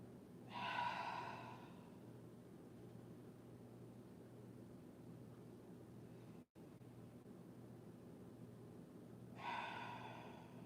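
Breathing during a Kemetic yoga warm-up, two audible breaths, one near the start and one near the end, faint and close over a quiet hiss.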